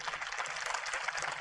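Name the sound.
audience clapping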